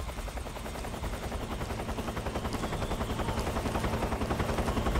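Helicopter in the video game Metal Gear Solid 3, a steady loud rotor thudding with rapid rhythmic chopping that grows slightly stronger over the stretch, heard alone without speech.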